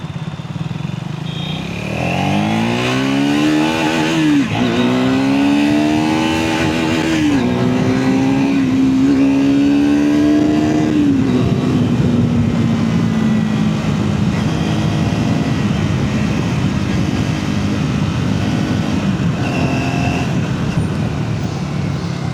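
A 2026 Triumph Speed 400 motorcycle engine revs up through the gears as the bike pulls away, its pitch rising and shifting in steps, then settling into a loud, steady drone close to the rider.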